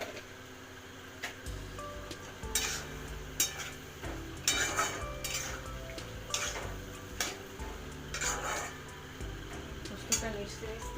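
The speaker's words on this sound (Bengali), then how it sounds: "জল দিয়ে দিচ্ছি পোস্তটা মেশার জন্য।" A spoon scrapes and taps against a pan while poppy seed paste is mixed with water, irregular clinks and scrapes at close range over a low steady hum.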